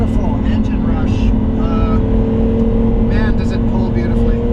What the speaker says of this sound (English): That's got a beautiful engine rush.